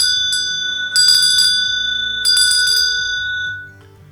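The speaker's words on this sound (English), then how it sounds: "So also in my practice, I use a bell." A small ritual bell used at a personal altar for consecrating and clearing rings in two distinct shaking bursts, bright and close, each leaving a long shimmering tone that slowly fades.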